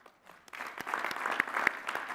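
Applause for 2021 master's degree graduates at a commencement ceremony starts with a few scattered claps, then swells into a steady crowd ovation with sharp individual hand claps standing out in a large hall.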